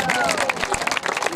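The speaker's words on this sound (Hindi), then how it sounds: "तालियां होनी चाहिए" An audience applauds at a club tournament prize ceremony, a crowd of clapping hands crackling throughout as a voice carries over it.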